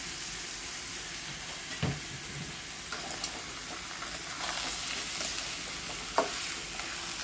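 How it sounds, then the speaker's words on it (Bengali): Soaked biryani rice frying in oil in a pot with bay leaf and black and green cardamom, a steady low sizzle with occasional scraping stirs, fairly quiet and without talking. "এখন আমি হালকা করে একটু ভেজে নেব।"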